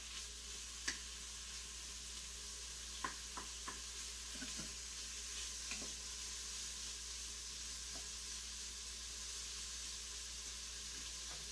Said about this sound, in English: Let's add our bacon. Okay, it's already starting to cook up good.